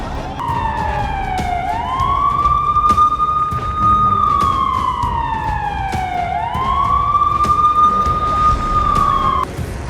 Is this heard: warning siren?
yes